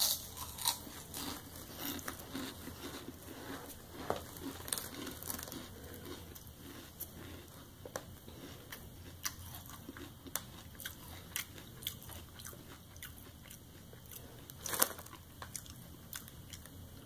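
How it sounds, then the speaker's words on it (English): Someone biting and chewing Lay's Flamin' Hot potato chips up close, with repeated crisp crunches and crackles over about seventeen seconds and no talking. "Lay's Flamin' Hot flavored potato chips."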